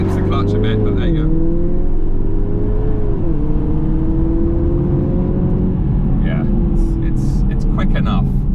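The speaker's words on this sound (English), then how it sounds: "left foot hard down the brake, right foot on the floor" A 2019 Audi TT with the 245 PS engine launches hard, its loud engine note climbing steadily and dropping at two quick upshifts as it keeps accelerating, heard from inside, with a voice speaking over parts of it.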